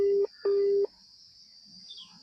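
Two long, steady telephone ring tones pulse in succession on a phone call, then fall quiet, leaving a faint hiss and a soft murmur.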